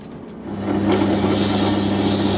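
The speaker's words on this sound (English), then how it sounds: "the easiest way I find to do this is simply put them in a drill press" A steady mechanical whir with a low motor hum, rising and holding loud after a quieter start, as a drill press spins brass hand plane parts against sandpaper with grinding friction.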